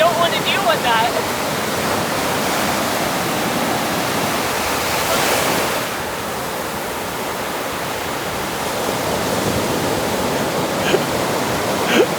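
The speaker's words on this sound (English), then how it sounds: "the big wave's gonna come." Surf rolls continuously onto a beach near Hamamatsu, Japan, a broad steady wash of breaking waves that swells around the middle as a bigger wave comes in, close and loud throughout.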